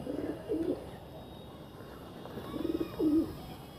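A pigeon coos softly twice, low throaty calls separated by a quiet pause, fairly close.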